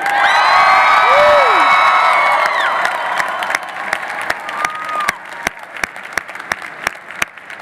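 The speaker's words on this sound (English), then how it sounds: "I thought that might get a louder cheer." A crowd at an FLL robotics event cheers and applauds, opening loud with whoops and shouts over clapping, then thinning into scattered individual claps that fade out.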